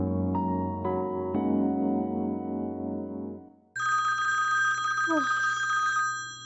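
A telephone rings with repeated bell tones, then a higher electronic ringtone takes over and sounds on steadily, loud and close.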